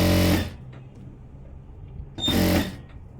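A sewing machine stitching a blouse runs in two loud, rapid bursts of about half a second each, separated by a quiet pause, with no talk.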